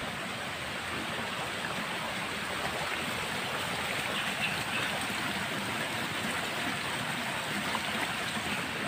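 A flowing stream rushes with a steady, even broadband wash of water noise, unbroken and fairly close for the whole stretch, with no voices.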